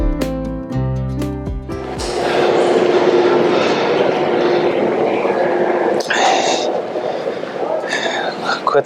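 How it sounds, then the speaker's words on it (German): A train bound for Salzburg starts up after a few clanking knocks, then settles into a loud, steady rumble of wheels on rails with occasional sharper rattles and clacks. "wo der Zug nach Salzburg wegfährt"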